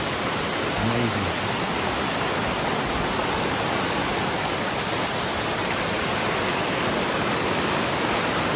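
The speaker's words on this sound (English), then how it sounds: "How's that for a waterfall, Brian?" Bridal Veil Falls pours down in a loud, unbroken roar of dense broadband rushing water that holds constant throughout.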